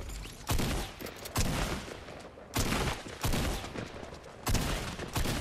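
Gunfire from a Fortnite match: loud bursts of shots arrive in several clusters, each opening with a sharp crack and trailing into rapid fire, with pauses between volleys.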